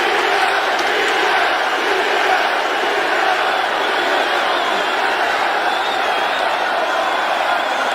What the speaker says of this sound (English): the chants of Diaz ring through the crowd